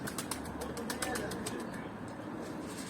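A pigeon nearby gives soft, repeated coos and flutters while a voice talks in the background at low level outdoors.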